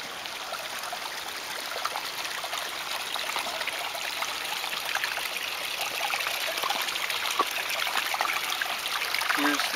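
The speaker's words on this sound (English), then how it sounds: "Here's the small waterfall that enters into the three ponds." A small garden waterfall trickles steadily into a series of three ponds, a continuous bright splashing wash heard from close by, fairly even in level with faint outdoor ambience underneath.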